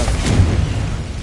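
A short, loud explosive boom from the Confringo spell in Hogwarts Legacy, a single close blast with a rumbling low end that decays quickly.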